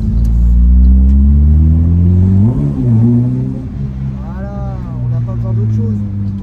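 A 1996 Peugeot 106 Rallye engine revs loudly up close, a low rumbling idle climbing into throttle blips with rising and falling pitch sweeps, with people talking over it.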